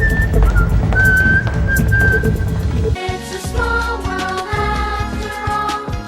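Someone whistles a Disney theme in the Ant-Man film, a clear melodic tune heard alone over a backing score, with bright sustained notes.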